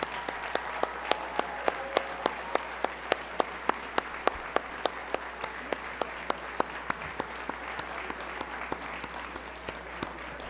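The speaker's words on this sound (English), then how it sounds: "Let's all join together in giving all of the recipients one great big round of applause" An audience at a university distinguished achievement awards ceremony applauds the recipients with a steady, moderately quiet round of clapping, some individual claps standing out crisply throughout.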